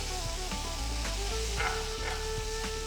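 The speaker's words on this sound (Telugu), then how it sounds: "ఉడికిన శనగల్ని వడకట్టి ఇప్పుడు ప్యాన్లో వేసుకుని మొత్తం బాగా కలపాలి" Boiled, drained chickpeas are stirred in a pan with curry leaves for Navaratri guggillu, giving a quiet, steady sizzle with soft scraping and stirring clicks throughout.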